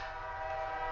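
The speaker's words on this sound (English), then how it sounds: "let's go train, let's go" A passing train sounds its horn in one steady, sustained blast, loud and close for the full second, with no talking over it.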